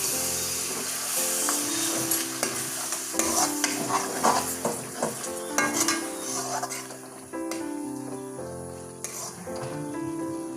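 Masala for chole paneer sizzles in a hot pan as a little water is poured in, with loud spattering hiss and repeated clinking, scraping stirs; music plays faintly underneath.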